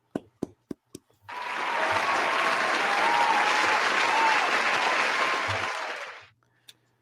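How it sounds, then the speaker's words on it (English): A studio audience breaks into steady applause for wrestler Darby Allin, a few separate claps first and then a dense burst of clapping that holds for several seconds before stopping abruptly, followed by one last lone clap. "Let's give a round of applause for Darby one time."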